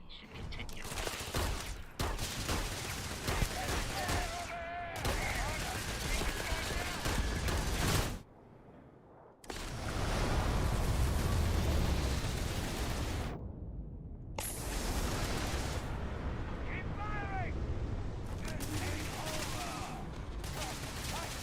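Sustained gunfire and weapon discharges in the Starfield video game, ship-boarding shootout against a robot, dense bursts filling most of the stretch with two brief pauses, talk running underneath.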